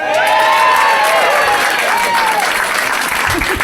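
Audience applause, a loud, dense wash of clapping from a crowd, with a voice speaking over it through the first half before the clapping carries on alone.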